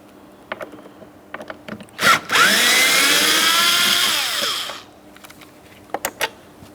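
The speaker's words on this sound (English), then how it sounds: "Deep inside this area, we have another T20 Torx screw to be removed. Let's go ahead and remove that now." A power screwdriver whirs for about two and a half seconds as it backs out a T20 Torx screw from the front door panel of a 2008-2016 Chrysler Town & Country, with scattered clicks and handling taps before and after.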